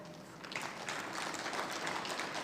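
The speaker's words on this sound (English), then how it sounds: "perhaps we can give the members of the panel one last round of applause" Audience applause for a panel at a higher-education leadership event: steady, moderately loud clapping from a room of people that continues evenly throughout.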